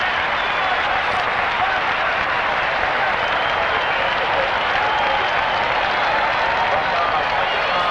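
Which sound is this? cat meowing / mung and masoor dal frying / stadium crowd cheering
stadium crowd cheering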